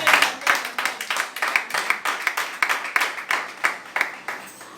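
A church congregation claps together for the Lord in a strong, steady rhythm, many hands striking on each beat with a loud, roomy sound and no voices standing out above it.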